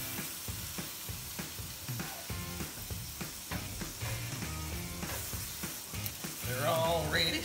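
Thin-spread burger patties frying on a grill in a steady, dense sizzle that stays loud and close throughout, with some clicking and scraping mixed in and no talk.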